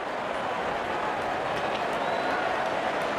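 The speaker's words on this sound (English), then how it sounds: "Openers walking in and the crowd cheering in anticipation." Crowd noise from the stands in the Real Cricket video game, a steady, broad roar of cheering and applause that holds level throughout.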